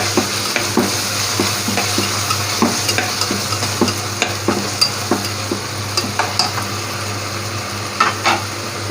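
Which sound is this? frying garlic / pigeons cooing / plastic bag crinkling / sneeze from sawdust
frying garlic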